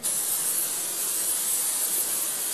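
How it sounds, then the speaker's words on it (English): A continuous silicone spray aerosol hissing close by onto a flexible mould as a release agent, a steady bright rush that holds evenly from start to finish with no pauses. "Give it a light spray with the silicone spray."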